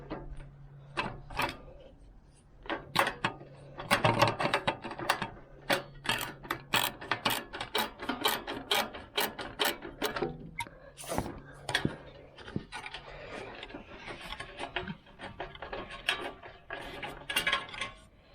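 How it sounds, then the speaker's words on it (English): Rapid ratchet wrench clicks in bursts as a bolt is turned on a lawn mower, close and fairly loud, with scattered metallic clanks and handling noises between runs of clicking. "where'd I set my ratchet at?"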